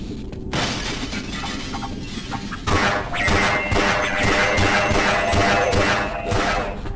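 Glass pane smashing in Half-Life as houndeyes burst through, a sharp crash near the start followed by a second, louder shattering burst and a continuing jumble of breaking debris and game noise.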